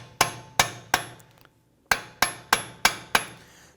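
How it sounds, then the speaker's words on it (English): Hammer striking a punch to free a front CV axle on a 2017-2020 Hyundai Elantra 2.0L L4, eight sharp metallic blows in close, steady rhythm with a short pause after the first three, loud and near with no talking. "I'm going to use a punch in the center here, and I'm going to use my hammer and hit that."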